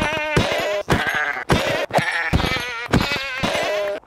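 A goat from a Minecraft mod bleats five or six times in quick succession, loud, close and nasal, each call clipped short with brief gaps between.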